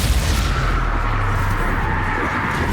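Incendio fire spell in Hogwarts Legacy, a loud sustained rushing roar of flame with booming low rumble, dense and continuous for a few seconds.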